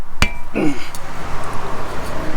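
A 3/16 Allen wrench goes into the small bolt holding a rotor during a front hub replacement, giving one sharp metallic clink near the start, then a brief scraping turn of metal on metal over faint workshop noise.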